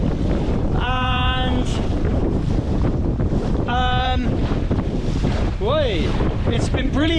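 A dinghy's electric outboard motor runs at about 800 watts on a new battery on a rough day, buried in heavy, roaring wind buffeting and water noise, with a person speaking briefly over the din.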